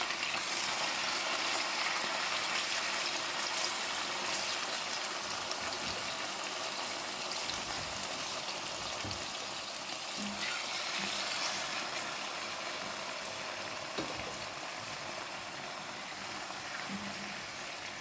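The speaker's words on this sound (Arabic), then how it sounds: "سمعين الطشطشه دي عايزين نسمعها عشان بس ما ينزلش الميه بتاعته" Veal escalopes sizzle in hot frying oil in a pan, a faint, continuous crackling hiss that runs steadily throughout without speech.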